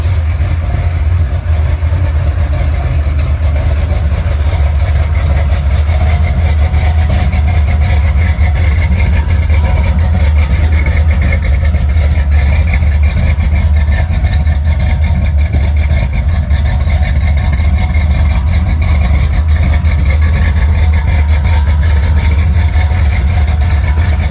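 A car engine idles steadily as it warms up at a car show, a loud, close, continuous low rumble with a slight rough pulse throughout.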